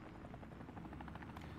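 A helicopter in a Call of Duty Plunder drop keeps up a steady thudding rotor chop with a whining engine drone, continuous and close throughout, no voices over it.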